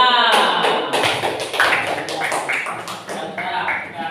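A classroom group breaks into clapping, many hands tapping together in a dense, busy patter that holds steady with some voices mixed in underneath.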